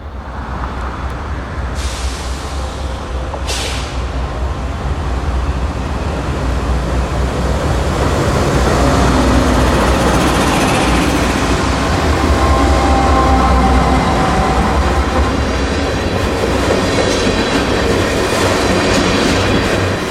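A Norfolk Southern southbound unit train of jumbo covered hoppers rolls past loud and close, with a sustained heavy rumble, wheel clatter and squeal, and a sharp air hiss near the start.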